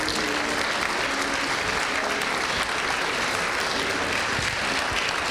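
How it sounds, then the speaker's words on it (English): Sustained audience applause fills a hall at a school alumni weekend awards program, steady dense clapping from a large crowd with no pauses throughout. "I want to give them a round of applause again"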